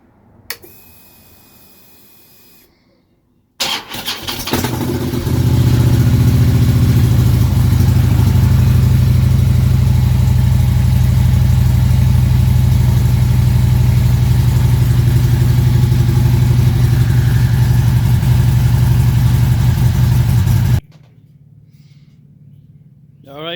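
A stored motorcycle kept on charge is cranked and fires up, then runs at a loud, steady idle for about fifteen seconds before shutting off, with faint handling noise before and after.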